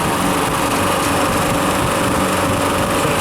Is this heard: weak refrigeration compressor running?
yes